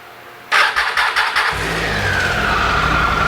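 Triumph Tiger 800XC motorcycle engine with a rough-running fault cranking over in several quick bursts, then catching and settling into a steady, uneven idle, close and fairly loud with no talking.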